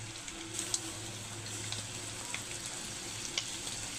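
Bopis, a minced offal dish, sizzles steadily as it sautés in a pan, a soft constant crackle with occasional faint pops and light stirring.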